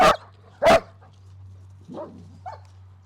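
German shepherd giving two sharp loud barks close by, then softer whimpering yips, over a steady low hum.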